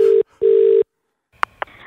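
Telephone line tones as a call is placed: two long steady beeps with a short gap, then silence, followed by two brief clicks or tones as the line connects, loud and close.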